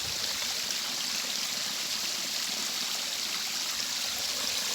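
Stream water flowing near a waterfall at an ancient cave in Kisii, a steady, dense rushing wash that holds constant and fairly close throughout, with no voices.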